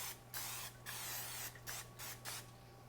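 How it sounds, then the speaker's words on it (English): Several short bursts of non-stick cooking spray hissing onto a baking dish in quick succession, close and fairly quiet, separated by brief gaps. "I'm gonna spray it lightly."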